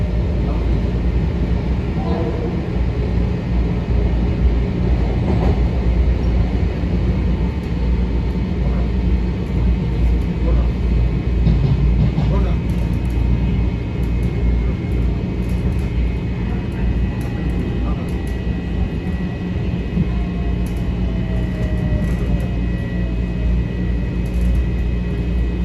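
A Metro-North M7 commuter train runs on the Harlem line toward North White Plains, heard as a steady low rumble and hum from onboard, continuous and fairly loud throughout with faint background noises.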